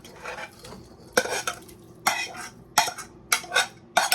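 Cooked rice being scooped into a pot of gluten-free chicken and wild rice soup, a series of close clattering scrapes and knocks of a spoon against the pot in uneven bursts, with no talking.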